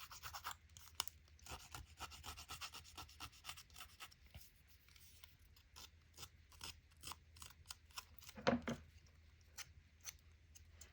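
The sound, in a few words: scissors blade cutting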